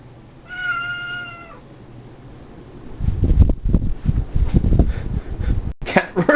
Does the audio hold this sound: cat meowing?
yes